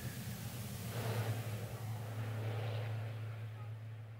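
A nearly five-tonne racing truck drives through the Slovakia Ring circuit during qualifying, its engine a steady, continuous drone with broad road and wind noise that swells slightly and then eases, heard from a moderate distance.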